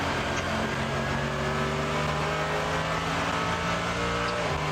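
A race car's engine howls loud and steady from the onboard camera during the 24h Nürburgring, holding a high strained drone with a slight shift in pitch near the end.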